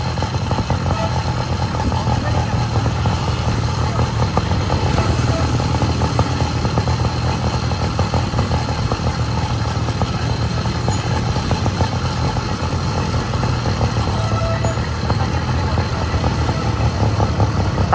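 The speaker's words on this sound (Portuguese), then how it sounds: "Tá cheio de carro e moto e" Steady traffic noise with motorcycles and cars rumbling past continuously, engines droning at mid distance, fairly loud throughout.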